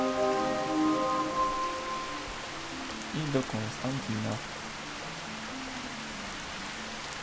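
Rain falls in the Gothic 2 Returning 2.0 game world as a soft, continuous hiss, with a brief voice and some tonal game sounds over it.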